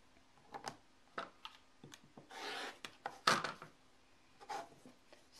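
A trimmer slicing through quilt batting and backing fabric, soft intermittent scraping cuts and faint rustles, quiet and close with short pauses between strokes.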